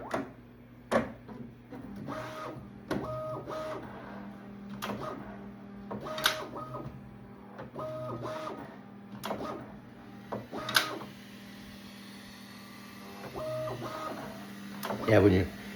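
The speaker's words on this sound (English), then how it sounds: "calibrate. So this is where it's going to lift the bed up." Bambu P2S 3D printer calibrating, lifting its bed with stepped motor tones and repeated clicks and knocks, close and moderate, a voice talking over it at times.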